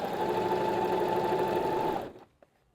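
Sewing machine stitching through layers of fabric hums steadily and close for about two seconds, then winds down and stops, followed by a faint click.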